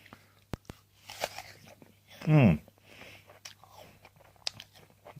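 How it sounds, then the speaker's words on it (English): A small red apple grown in an organic no-dig kitchen garden gets bitten into with one sharp, loud crunch up close, followed by quieter chewing and faint breathy sounds. "So I'm just going directly now to taste it."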